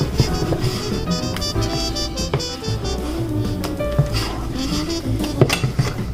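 Christmas cake batter being cut and folded in a bowl, a continuous busy scraping and clinking of utensil against the bowl with scattered sharper knocks, close and fairly loud.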